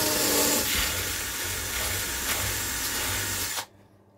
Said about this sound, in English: I can drill into this now, this foam, and get my wires in